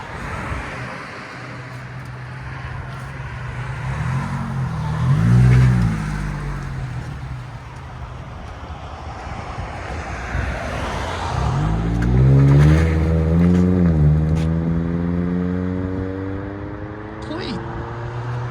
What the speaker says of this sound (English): Scion TC with a stainless steel muffler from the ceramic